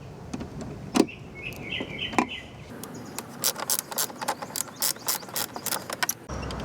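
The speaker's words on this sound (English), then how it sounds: "use a 10mm wrench and pull out bolts 1, 2," A 10mm wrench working bolts loose from the coolant reservoir of a 2013-2021 Lexus GX460, a run of quick, sharp metallic ratchet clicks and ticks close by, with a few faint knocks before them and no talking.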